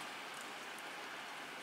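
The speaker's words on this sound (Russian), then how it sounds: "у нас идет дождь, представляете?" Steady rain falls outside at night, an even, continuous hiss heard from indoors through a window, faint and unbroken with no voices.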